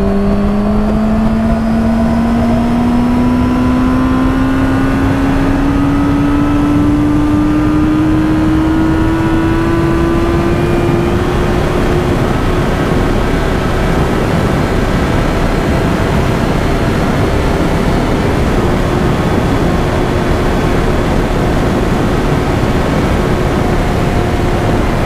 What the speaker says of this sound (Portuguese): vou deixar para vocês aí como foi a esticadinha da Fazer 600